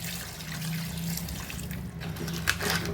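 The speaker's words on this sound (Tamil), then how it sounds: "இப்போ நண்டு வேகிற அளவுக்கு தண்ணி சேர்த்துக்குவோம்." Steady trickle of water being poured into crab curry, close and soft, with a faint low hum underneath.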